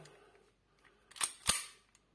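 An SRC M92 Beretta M9 replica airsoft pistol fires two sharp, snappy cracks in quick succession, fairly close, against otherwise quiet surroundings.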